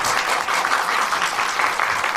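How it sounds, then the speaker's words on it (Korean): An audience at a film screening Q&A event gives welcoming applause for the director and cast, a dense steady clapping from many hands that continues throughout. "함께해 주신 우리 감독님과 출연진 분들께 큰 환영 박수 먼저 부탁드립니다."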